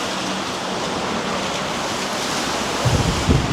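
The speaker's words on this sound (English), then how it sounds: "That's a huge downpour." Heavy rain pours down in a downpour over wet roads in Blackpool, a steady dense broadband wash filling the whole stretch with no talk, with a couple of low thumps near the end.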